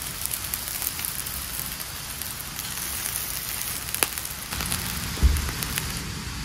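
Rain falls steadily at a campsite, a continuous close patter on surfaces with a few louder drops and soft knocks breaking through the even hiss.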